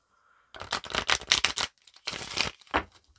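Quick papery riffling and slapping in two bursts, close and crisp, with a brief pause between them and no talking.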